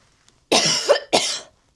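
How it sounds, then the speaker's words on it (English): Two sharp, close coughs in quick succession, dry and raspy, with silence before and after. "I keep getting this tickly cough"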